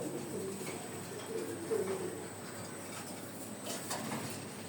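A pigeon, a crossbred household bird, gives soft low coos close by in a quiet room, a few brief murmuring calls over faint background hum.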